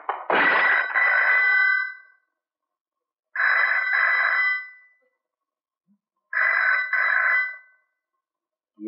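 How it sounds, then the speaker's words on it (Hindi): Telephone in a Hindi film scene rings in three loud, separate electronic trill bursts, each about a second and a half long with pauses between, alone with no talk over it. "ये यहां फोन किसका है?"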